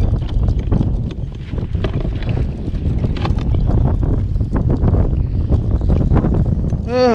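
Strong storm wind buffets a kayak out on the water, a loud continuous rushing roar with gusty surges and splashing close to the microphone.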